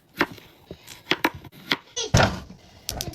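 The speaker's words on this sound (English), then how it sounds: "Chopping up some potatoes." Potatoes are chopped with a knife on a board in a kitchen: a series of sharp, irregular cuts and taps, close and fairly crisp, with a louder scraping clatter partway through.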